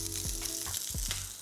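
Cumin, allspice, cinnamon and chilli flakes toast in a hot pan with a steady close sizzle, punctuated by a few scraping stirs.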